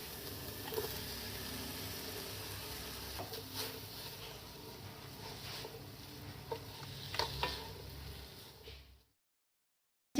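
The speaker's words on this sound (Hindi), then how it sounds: "हमने चिकन के रेशे कर लिए। अब इसमें हम मिला देंगे।" Shredded chicken being stirred and mixed in a pan for spring roll filling, with a soft continuous sizzle and scraping clatters of a utensil, ending abruptly in silence.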